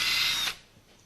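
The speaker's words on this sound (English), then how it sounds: "Drill pilot holes for your screws, because you want your screws to go in straight." A power drill bores a pilot hole for a door hinge screw, giving a short high whir that stops abruptly about halfway through, then quiet.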